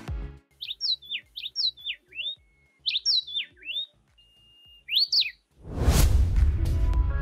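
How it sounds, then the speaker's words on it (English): A Goldcrest, a tiny passerine kinglet, sings high, thin, rapid chirping phrases repeated in several bursts, clear and close, ending with a sudden loud whoosh of noise. "Goldcrest is a small-sized passerine bird belonging to the kinglet family."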